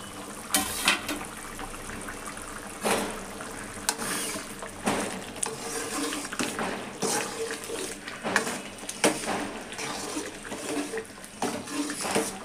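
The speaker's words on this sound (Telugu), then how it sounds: "వాటర్ వేసి ఉడికించేద్దాం" Water poured into a pot of potatoes set for boiling, with splashing, gurgling flow running steadily throughout and several sharper clatters and knocks punctuating it, fairly close and alone without talk.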